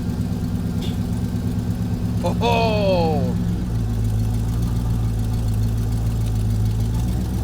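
A neglected Chevrolet Corvette at an auction yard idles with a steady low rumble, a brief higher whine sweeping down partway through, while a person speaks briefly over it.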